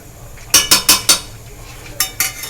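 Chickpeas being stir-fried with spices for chana masala in a pan, with a run of four sharp metal spoon scrapes and clinks, a pause, then two more, close and fairly loud, with no talking.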